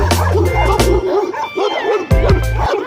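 Several dogs bark loudly and repeatedly at a university dog training facility, with yips and whimpers between sharp, close bursts.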